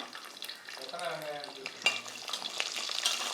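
Oil crackling and sizzling steadily as small onions fry in tempering oil in a pan, with occasional stirring clinks and a muffled voice briefly in the background.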